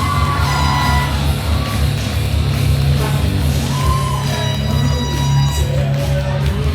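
Wrestling crowd at an independent show yelling and cheering after a match win, a steady dense roar of voices with scattered whoops throughout, loud and continuous.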